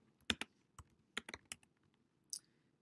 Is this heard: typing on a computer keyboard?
yes